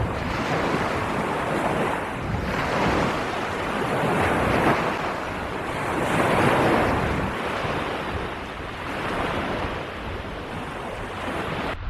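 Surf washes in and out along a remote beach on the Arran coast, a loud, continuous roar of waves swelling and easing in slow surges, with wind buffeting the microphone throughout.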